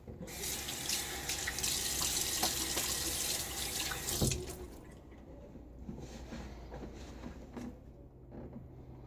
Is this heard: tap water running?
yes